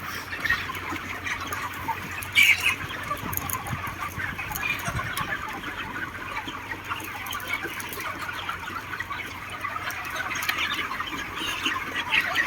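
Flocks of chickens cluck and chatter steadily inside a farm pen in Israel, a constant dense murmur of many birds with a few louder calls rising above it.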